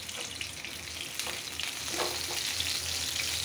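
Onions browning in a pan on a stovetop, a continuous close sizzle with a few clinks of stirring and a slight swell in intensity toward the end.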